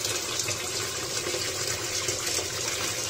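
A strong, steady rush of water pouring from a tap fed by a 0.5 hp water pump, continuous and close without pause.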